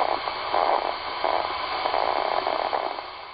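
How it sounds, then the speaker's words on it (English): A SpikerBox amplifying neuron spikes from a living cockroach leg gives irregular soft popping crackles over a steady band-limited static hiss, with no talking. "That popping sound you're hearing is the spontaneous discharge rate of the living neurons in the still living"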